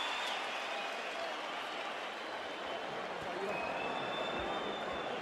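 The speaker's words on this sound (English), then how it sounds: "And the crowd appreciates both." Crowd at a boxing fight between Floyd Mayweather and Oscar De La Hoya applauding after the bout: steady, dense roar of clapping and cheering that fills the whole stretch, with no individual voices standing out.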